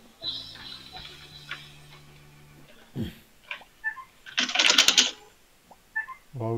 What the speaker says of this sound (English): Wow, that was a loud keyboard.